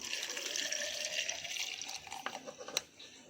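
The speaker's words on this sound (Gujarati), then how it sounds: "હવે તેમાં આપણે દૂધ રેડ દઈશું" Milk pours into a container for a banana shake, a soft liquid splash and trickle that thins out toward the end, with a few light clinks of utensils, quiet and with no voices.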